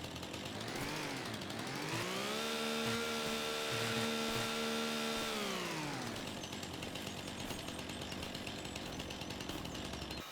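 Chainsaw trimming trees in Farming Simulator 25, a steady high-revving buzz that rises, holds at full throttle for several seconds, then drops back to a rough idle, loud and close with no talk.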